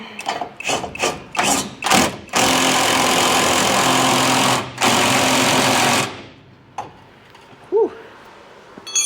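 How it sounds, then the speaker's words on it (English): Welding on the suspension cross member of a 1977 Toyota Celica gives a few short crackling bursts, then a long steady loud buzzing sizzle that stops briefly and resumes before ending, followed by quiet shop clatter. "we're just going to weld this up."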